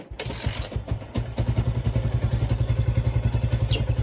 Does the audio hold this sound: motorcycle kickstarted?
yes